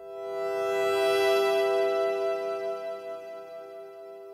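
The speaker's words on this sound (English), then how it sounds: "And so with just the reverb on, it sounds like this." A sustained synth chord from Logic Pro's Alchemy synth rings out with a lush reverb tail that slowly fades and wavers, no voices present.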